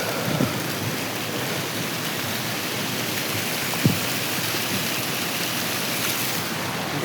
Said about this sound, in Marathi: पाऊस एवढा मोठा आहे की इकडून ह्या साईडला जायला पण बंद केलेलं आहे